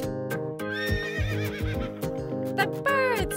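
A horse neighs over a bouncy farm-animal nursery rhyme backing track, its rising and falling whinny clear above steady music with a plucky beat.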